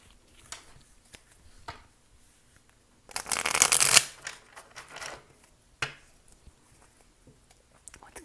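Tarot cards being shuffled close up, one dense riffling burst of about a second followed by scattered soft taps and card handling.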